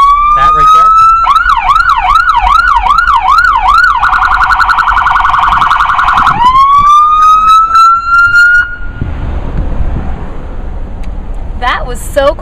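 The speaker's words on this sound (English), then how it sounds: "if you flick it back to pursuit and the siren goes on" A loud police car siren in pursuit mode cycles through a fast yelp, then a rapid harsh warble, then settles into a long steady wail before fading into road noise.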